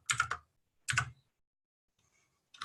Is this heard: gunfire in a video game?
no